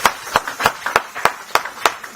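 Clapping in a church during a Family Sunday service at Dunamis Centre, sharp, evenly spaced claps about every third of a second, close and fairly loud, with little else behind them.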